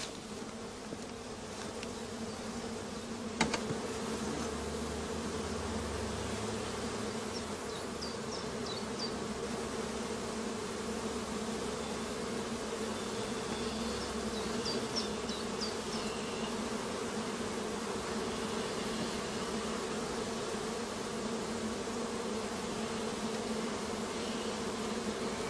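A honeybee colony hums steadily at an apiary hive during a spring inspection, a dense continuous buzz close by, with occasional individual bees droning past and a brief click near the start.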